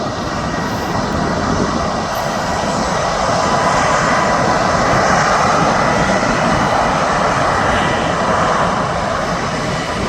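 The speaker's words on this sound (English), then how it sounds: "just as Sky Sun Express takes off to Antalya" A jet airliner takes off from Birmingham Airport, heading for Antalya, its engines giving a loud, steady roar that holds for the whole stretch at a moderate distance, with no voices over it.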